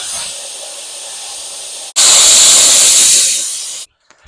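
A propane dragon torch burning with a steady loud roaring hiss that cuts off, restarts louder and then shuts off abruptly, with no talk.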